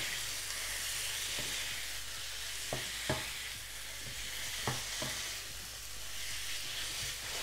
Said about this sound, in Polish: Zagadka, ile kurczaków smaży się na patelni?